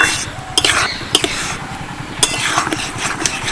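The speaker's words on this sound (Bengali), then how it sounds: "এরভাবে নেড়ে চেড়ে সুজিটাকে সিদ্ধ করে নেব" Semolina cooking in water in a pot, stirred with a utensil that makes repeated scraping clinks against the metal, several sharp taps over a low steady hum, no talking.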